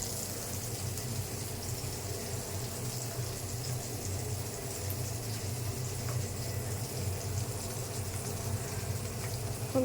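Cauliflower and potatoes fry in a tablespoon of hot oil in a wok, producing a steady, dense, close hiss with no break and no voices.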